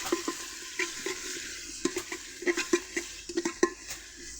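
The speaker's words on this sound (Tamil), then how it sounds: "இப்போ வெங்காயத்தை கொட்டிட்டு வதக்கும் போது உங்ககிட்ட காட்டுறேன்" Onions sautéing in oil in a pan, with a low sizzle underneath and a series of close, sharp spatula scrapes and taps against the pan at an irregular pace, with no talking.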